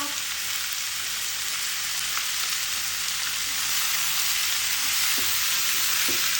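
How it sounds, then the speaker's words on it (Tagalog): Sisig sizzling loudly on a Korean kawali standing in for a sizzling plate, a continuous bright hiss with a few small pops near the end and no talking. "Yan lang yung aking pinaka-sizzling plate."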